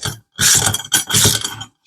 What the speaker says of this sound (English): Just gonna tighten that up.